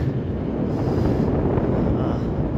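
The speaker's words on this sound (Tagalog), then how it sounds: "malakas yung hangin." Steady, roaring wind buffets the microphone at sea alongside a tanker west of Malta, a dense, low rumble that stays constant throughout, with no clear voices.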